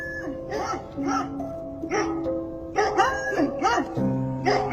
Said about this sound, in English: Dang it, they got a bunch of dogs.